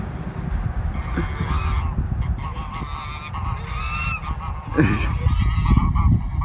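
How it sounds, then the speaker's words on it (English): Geese honk repeatedly over a steady low background rumble, their calls overlapping and growing more agitated toward the end. "there's some wildlife. Look, right there. Ducks or whatever it is."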